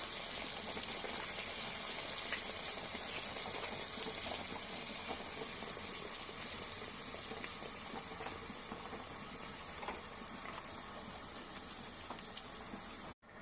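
Baursak dough pieces frying in heated oil in a cauldron: a steady, dense sizzle and bubbling hiss continuing evenly throughout, ending abruptly.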